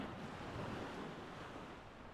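Waves wash onto Nea Chora beach in Chania while wind buffets the microphone, producing a steady, broad roar of surf and gusting noise with no voices.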